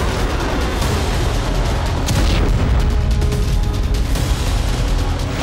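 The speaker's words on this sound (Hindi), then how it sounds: "सात नवंबर की भोर होते ही हिजबुल्ला की मिसाइलें गर्जी" Rocket and missile explosions during a Hezbollah attack on Israel make a loud, continuous roar of booms and rumbling blasts, dense and distorted throughout.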